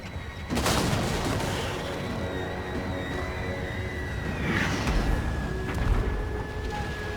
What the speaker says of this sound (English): Why are you firing at the unit I told you not to fire at?